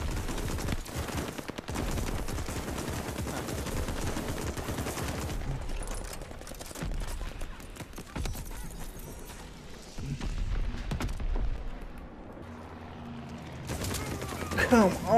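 Bursts of gunfire in a shooter video game pile up in rapid fusillades and machine-gun rattles, busy at first and then sparser, with a voice talking over the shooting.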